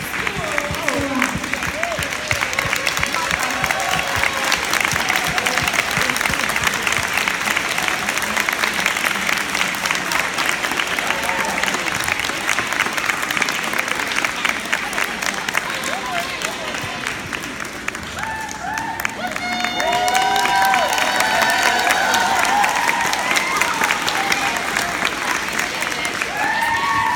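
An audience applauds loudly and steadily for nearly half a minute, a dense crowd clapping that dips briefly and then swells again, with voices faintly mixed in.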